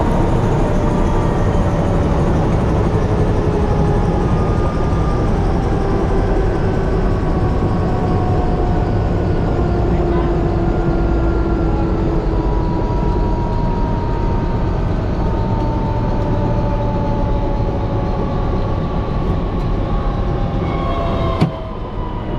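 Continuous loud cockpit drone of aircraft propellers still spinning down after engine shutdown at night, a dense steady roar with slowly drifting tones, ending in a sharp click near the end.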